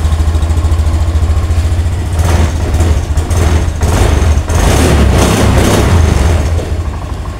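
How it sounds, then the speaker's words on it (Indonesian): Engine of a 2022 Honda Scoopy scooter idling nearby, a loud steady low rumble that runs throughout with some rising, rougher noise in the middle. "Ini masih menyala motor"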